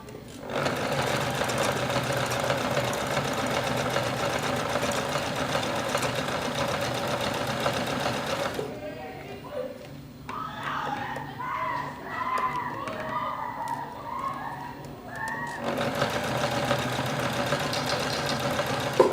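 A sewing machine stitches textile in a burst of rapid mechanical chatter during the middle of the clip, with a person talking before and after the run.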